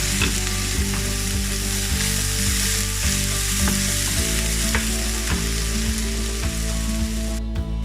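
Onions fry in hot oil with dried red chillies, a loud, close, unbroken sizzle with a low steady hum and periodic scrapes and knocks from a spoon stirring the pan.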